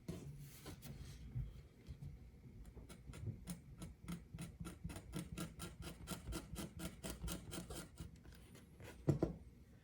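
Leather at the perimeter of a handmade bifold wallet's inner shell is roughened by hand, giving a faint, close series of rhythmic scraping strokes with a small knock near the end.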